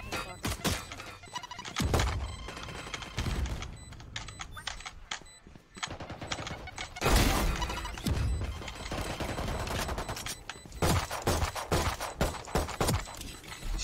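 Gunfire in the video game Valorant, rapid bursts and single shots layered over busy game sound, with occasional voices in the mix.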